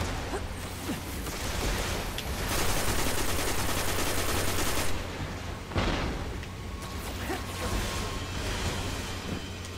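Enemies firing on the player in the Destiny shooter game, loud sustained automatic gunfire in rapid bursts that intensify in the middle, with a sharp crack near six seconds and continued shooting after.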